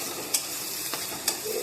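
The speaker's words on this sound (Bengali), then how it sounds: "আমি তেলে এবারে আমি পেঁয়াজ, কাঁচা লঙ্কা ছেড়ে দিলাম" Chopped onions and green chillies frying in oil in a pan for a fish curry, a soft continuous sizzle close by with a few faint clicks of stirring and no voices.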